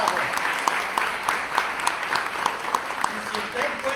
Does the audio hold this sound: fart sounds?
no